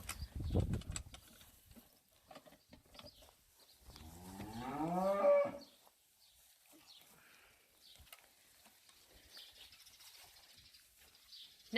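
Cattle on a summer hay farm moo once in a long, wavering call from a moderate distance, with quiet farmyard background before and after.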